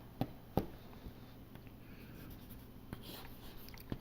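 Chalk or marker writing on a board during a physics lecture, a few sharp taps and short scratchy strokes spaced out over a quiet room with a steady background hiss.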